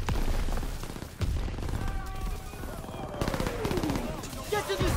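Heavy gunfire from the Call of Duty WWII beach assault rattles continuously, with rapid machine-gun bursts, booming explosions and whizzing debris filling a dense, loud battle scene while a soldier shouts over it.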